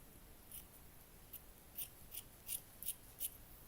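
Scissors snip through paper to cut out small pieces for a miniature build, a series of soft, crisp clips at an uneven pace against a quiet room hiss.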